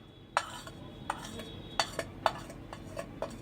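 A spoon stirring chopped onion, coriander and cumin into sattu sharbat, with sharp clinks against the container at an uneven pace, close and fairly quiet over soft background noise.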